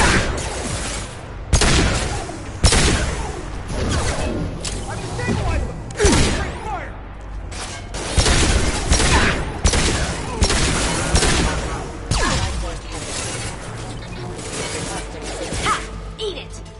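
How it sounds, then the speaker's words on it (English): Heavy, booming gunshots ring out one after another in Mass Effect Legendary Edition combat on Illium, loud repeated blasts with echoing tails, while a voice speaks between the shots. "Firing a high-impact shot!"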